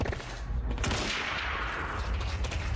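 Dense gunfire from the video game Quantum Break, rapid bursts of shots blending into a continuous loud barrage for a few seconds, with no talk over it.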